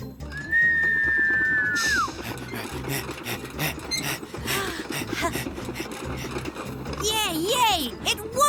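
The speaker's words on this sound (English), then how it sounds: "And this was a quiet whistle." A cartoon whistle engine on a trolley gives a long, clear, steady whistle, followed by scraping and rattling movement and brief rising and falling whistle tones near the end.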